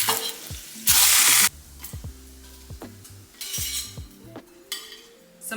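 An egg frying in a pan, close and loud: bursts of crackling sizzle come and go between ringing metallic clinks and taps of a utensil against the pan, no voices.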